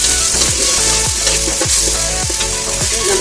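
Ginger garlic paste and onion fry in oil for a chicken soup, making a loud, dense, close sizzle with regular scraping strokes from a stirring spoon.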